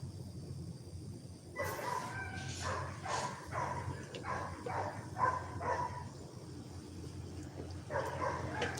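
Several dogs bark in repeated bursts, moderately distant, over a steady low background hum, with a pause before a final flurry of barks near the end.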